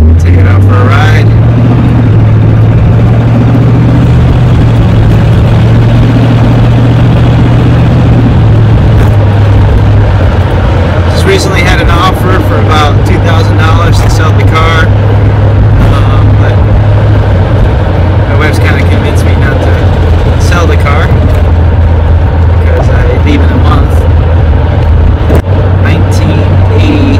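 A 1987 Chevrolet Camaro out for a drive on a rainy day, its engine drone holding steady and low with a pitch change partway through, while a person talks over the cabin noise.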